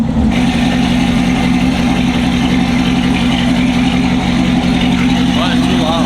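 A loud, raw truck engine with no exhaust fitted rumbles continuously up close, a harsh unmuffled drone that stays steady throughout.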